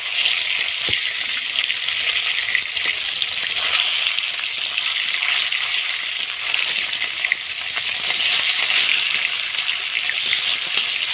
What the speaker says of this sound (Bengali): মাছ ভাজা হয়ে গিয়েছে